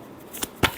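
A deck of tarot cards is shuffled in a quick, soft riffle, a few brief papery flutters close by and quiet.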